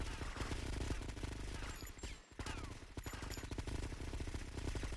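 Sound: gunfire from a gun in the video game GTA: Vice City

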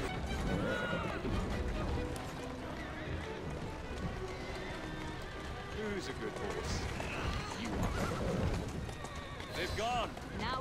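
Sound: horse-drawn carriage driving in video game Assassin's Creed Syndicate

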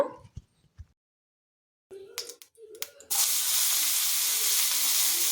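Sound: dried prawns frying in curry

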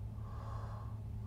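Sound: yawn

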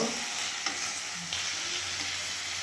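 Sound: sautéing tomatoes, mint and coriander in pan

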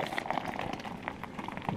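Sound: bubbles of nitro-infused Pepsi after hard pour

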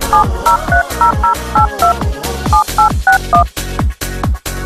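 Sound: telephone keypad DTMF tones while entering a mobile number

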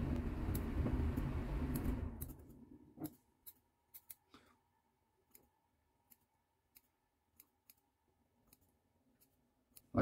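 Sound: scissors trimming a beard

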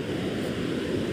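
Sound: large ocean waves at the shore

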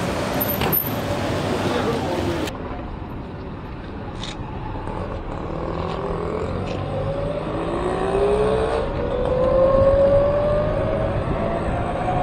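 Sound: Ather 450 electric scooter riding, faint vehicle sound

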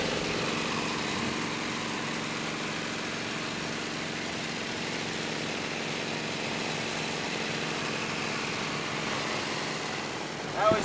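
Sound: 1915 Indian motorcycle engine running at speed

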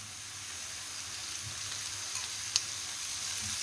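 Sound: minced meat kefta frying with onion and garlic

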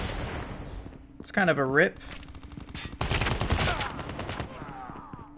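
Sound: gunfire from a BK57 gun in video game Call of Duty Mobile

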